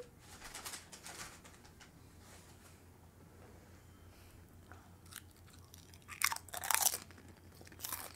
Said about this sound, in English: Well, that was a nice crunch.